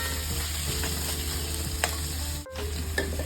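Continuous sizzling of egg burji frying in a pan, with occasional stirring clicks and scrapes over the steady hiss and a brief dip midway.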